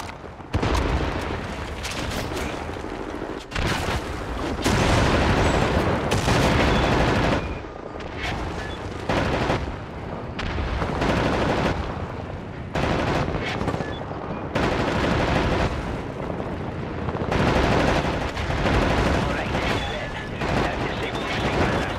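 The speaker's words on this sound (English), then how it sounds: "Right, lads, you ready to lay down suppressor fire?" Wolfenstein: The New Order game combat with suppressing fire: loud, sustained bursts of automatic gunfire rattle in long volleys separated by brief pauses, dense and close throughout.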